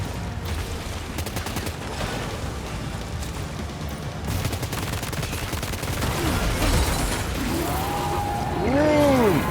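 Rapid bursts of assault rifle fire in the video game Death Stranding 2, dense crackling volleys mixed with explosions and whooshing effects, growing louder toward the end.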